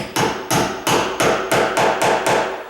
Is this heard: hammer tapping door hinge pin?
yes